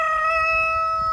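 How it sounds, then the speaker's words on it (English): A large pet rooster named King Kong crowing in a backyard garden, a single sustained, strongly tonal call, close and clear, with no talk. "that's my rooster, King Kong."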